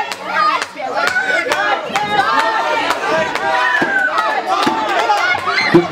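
A wrestling arena crowd roars and cheers in support of Ike Van Dyke, a dense steady wash of voices punctuated by sharp claps and slaps, with a commentator talking over it throughout.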